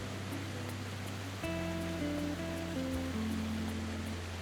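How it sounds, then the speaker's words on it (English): Fourteen Falls near Nairobi, Kenya, where the Athi River pours over a series of rocky ledges in a curtain nearly 90 feet wide, a constant broad rush of falling water partly masked by music playing over it. "14 Falls, where the Athi River cascades over a series of distinct rocky ledges, creating a curtain of water nearly 90 feet wide"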